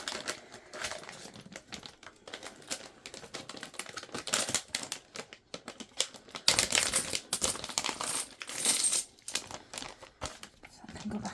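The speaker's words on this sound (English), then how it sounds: "So we've now filled another bag of 50p's." 50p coins drop and clatter into a bag as they are counted, with dense bursts of metallic clinking and rustling of the bag, close and fairly loud in the second half.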